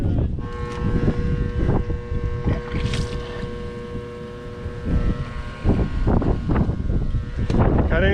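Gusty wind blows outdoors in the rain, buffeting the microphone with a continuous low roar broken by sharp, uneven bursts of rushing air.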